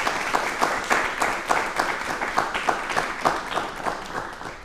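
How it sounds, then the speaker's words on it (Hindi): A talk-show studio audience claps loudly and steadily, a sustained crowd applause with distinct individual claps running throughout and no talk over it. "अपने लिए भी तालियां एक बार जोरदार बजा दीजिए प्लीज।"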